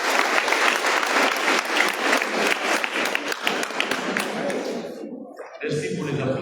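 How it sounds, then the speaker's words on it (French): A conference audience at an HIV/AIDS colloquium applauds loudly with dense, close clapping that gradually thins and fades, then a voice begins speaking into the quieter room at the end. "Merci pour les applaudissements."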